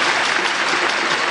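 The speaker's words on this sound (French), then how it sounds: "Applaudissez" Audience applause at an official launch event for a new year of celebrations, a dense, steady wash of many hands clapping together at full volume for the whole moment, with no voices breaking through.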